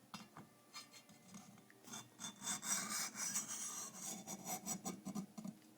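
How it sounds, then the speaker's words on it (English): A regular hacksaw cuts a groove down the center of a nagura sharpening stone, giving steady, rhythmic rasping strokes of stone-on-blade grinding, fairly close and clear, with no talking. "you take a regular hacksaw"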